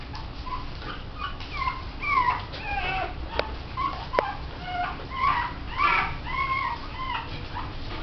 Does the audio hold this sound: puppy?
yes